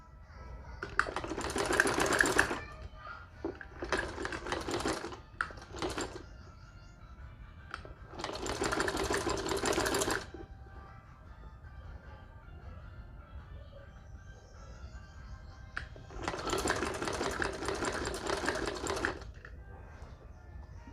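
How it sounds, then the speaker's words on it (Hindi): A sewing machine stitching around the collar of a kurti in four separate bursts of fast, rattling whirring, each lasting a couple of seconds with quiet pauses and soft fabric handling between them, heard close up. "पूरे गले में इसी तरह से स्टिचिंग होगी।"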